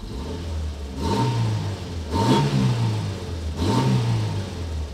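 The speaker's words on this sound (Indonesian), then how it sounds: "Kita nyalain dulu mesinnya. Mesinnya halus." An Esemka Bima pickup engine idles close by and revs three times in quick, even bursts, each rising and falling back to a steady idle.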